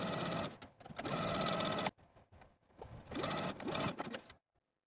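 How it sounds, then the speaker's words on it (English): A sewing machine stitches a dress seam allowance in two close, fast, whirring runs with a brief pause between, clattering steadily, then stops into silence. "I'm just going to use my sewing machine to secure that seam allowance"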